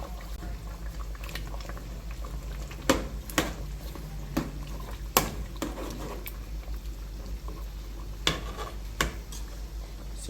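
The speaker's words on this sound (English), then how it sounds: "Stir that up." Jamaican oxtail stew with beans and garlic simmers in a pot, a soft bubbling bed broken by several sharp clinks of a spoon against the pot as it is stirred.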